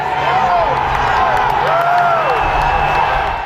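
Agitated crowd of protesters at the U.S. Capitol, a loud dense roar of shouting voices with whistle-like rising cries over a constant din, continuous and close.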